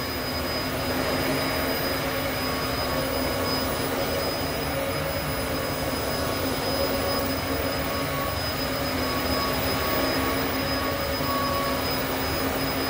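Dyson DC14 upright vacuum cleaner running steadily, a loud continuous motor whine and airflow roar with a sustained high tone, unchanging throughout with no talking.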